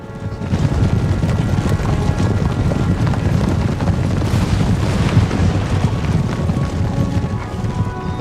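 A dense, continuous rumble of many horses galloping in the video game Napoleon: Total War, loud and unbroken throughout, with a deep booming undertone.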